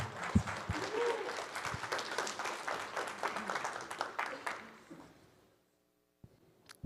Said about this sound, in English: Please give them a warm welcome and applause.